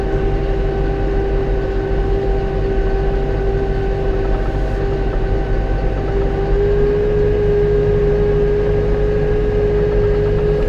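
A Massey Ferguson 5711 Dyna 4 tractor rakes thick rye with its engine holding about 1500 RPM. The loud, steady drone carries a constant hum and a whining tone that barely change throughout.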